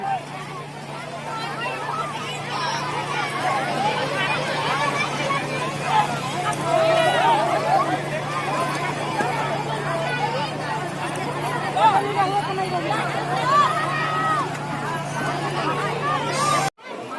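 Dense crowd babble at Belaur Surya temple, many overlapping voices in a steady, continuous hubbub with a low constant hum underneath.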